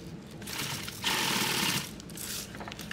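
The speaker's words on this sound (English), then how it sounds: "I'm going to sew into this next piece here." Sewing machine stitching nylon tactical gear, a close, steady mechanical whir with a louder burst of fast stitching in the middle, running continuously without speech.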